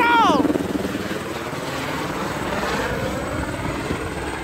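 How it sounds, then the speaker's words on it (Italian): A helicopter flies nearby with a steady, loud rotor thrum filling the whole clip, briefly overlaid at the start by a short voice. "L'elicottero!"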